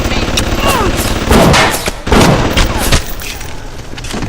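Rapid automatic turret gunfire in the video game BioShock, loud bursts of shots clustered together with brief pauses, someone talking over parts of it.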